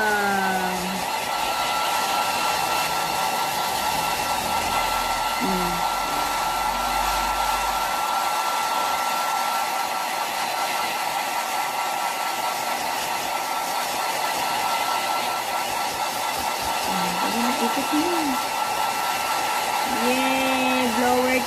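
A hair dryer blows with a steady, loud whooshing hum for a long stretch while drying a two-month-old Shih Tzu puppy after a bath, its pitch shifting slightly now and then, with no one talking.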